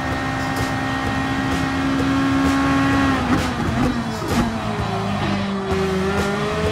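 Race cars in GT Sport run close and loud throughout, with sustained engine drone shifting pitch through corners and brief tire squeal mixed in.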